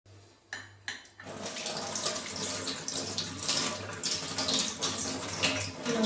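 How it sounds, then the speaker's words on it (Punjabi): Combs are rinsed with clean water under a running tap: a few light clinks come first, then a steady, close stream of water splashes continuously with no talking. "ਆਪਾਂ ਇੱਕ ਵਾਰੀ ਫਿਰ ਇਹਨਾਂ ਨੂੰ ਸਾਫ਼ ਪਾਣੀ ਨਾਲ ਸਾਫ਼ ਕਰ ਲਵਾਂਗੇ"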